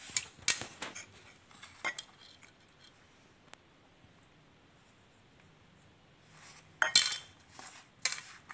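Milk and oil are mixed into gulab jamun dough in a bowl with a spoon, producing quiet scattered clinks and scrapes in short bursts, separated by a near-silent stretch in the middle.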